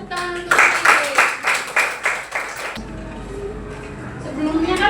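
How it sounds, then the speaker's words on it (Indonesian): A classroom of elementary school children clapping hands in a brief rhythmic burst of about a dozen claps, close and fairly loud, stopping abruptly before quieter room sounds and a faint voice. "kasih tepuk tangan untuk Sri."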